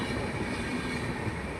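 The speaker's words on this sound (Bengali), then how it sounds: "কারেন্টের ট্রেন চলে" An electric train passing on a sturdy main line, a steady loud rumble of rolling wheels close by, continuous throughout without any voices.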